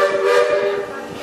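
A steam train whistle on the Walt Disney World Railroad at Magic Kingdom sounds steadily with rich harmonic tones, loud and close, over a low rumble of rail machinery.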